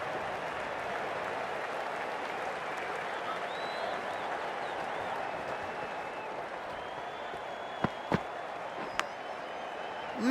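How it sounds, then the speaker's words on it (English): Stadium crowd in a Cricket 24 Australia vs India match, a steady distant roar of cheering and applause filling the background, with a few sharp clicks near the end. "It's almost palpable, the excitement emanating from this crowd at the moment."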